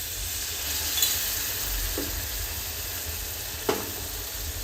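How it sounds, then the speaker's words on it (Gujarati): Potato curry liquid sizzles in hot oil with a steady, moderate hiss and crackle, broken by a couple of faint utensil taps. "તો હવે આપણે તેમાં રસો ઉમેરી દઈશું."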